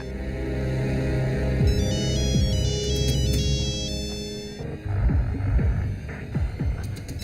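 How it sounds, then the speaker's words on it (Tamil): A mobile phone rings loudly with a repeating electronic melody over a low throbbing hum, close by and continuous, with no voices. "உன் போன் அடிக்குது பாரு"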